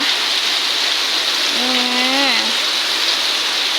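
Heavy rain pours down in a steady loud hiss, continuous and close, with a voice speaking briefly over it partway through.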